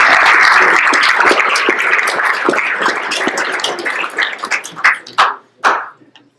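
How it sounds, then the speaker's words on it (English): A round of applause at a school dinner: a dense crowd clapping loudly and evenly, thinning out near the end into a few last scattered claps. "the lead person is Miss Alex Sedgley, and I'd like to give her a round"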